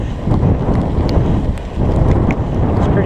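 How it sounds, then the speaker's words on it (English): Steady, loud wind buffeting the microphone during a night ride on a fat bike, a continuous low rumble with gusty swells throughout. "Windy, but the wind is supposed to die down."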